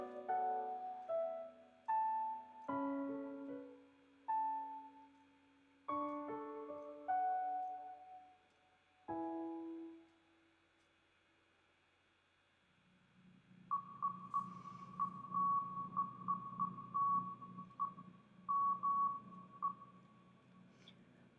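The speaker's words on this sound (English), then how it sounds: "Honestly, I forgot what that Morse code is" Electronic Morse-code-style beeps ring out in clear tonal pulses, a run of separate tones first, then a faster stream of repeated beeps over a low hum.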